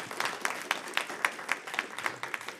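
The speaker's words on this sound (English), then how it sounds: "Let's give them another round of applause." Audience applause at an academic conference session closing: a modest crowd claps in steady, rapid bursts for the speakers, moderately faint and continuous for a few seconds with no talking.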